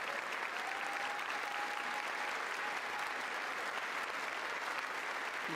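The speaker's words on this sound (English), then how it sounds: "there's Joe Biden clapping enthusiastically" Large chamber audience applauding at the State of the Union address, a continuous dense clapping that holds steady and fairly distant throughout, with no break.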